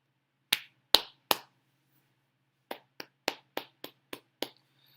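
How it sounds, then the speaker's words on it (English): A sports talk show host claps his hands in a quiet room: three sharp claps, a pause, then a quicker run of seven or so, each crisp and close with no talk. "That's me clapping because I'm going to be right again."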